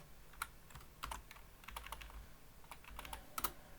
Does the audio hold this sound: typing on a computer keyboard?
yes